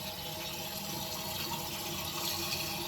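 Water runs steadily from a tap into a rusty, crusty old car fuel tank sitting in a laundry sink, a continuous close hissing rush of filling liquid with no talk.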